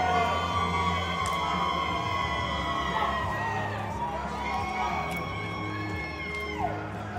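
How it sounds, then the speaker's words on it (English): Crowd at a bowling alley singles finals in Lubbock, Texas, cheering and whooping in a sustained roar, loud and dense throughout, with scattered yells over the hall's ambient din. "Crowd erupts."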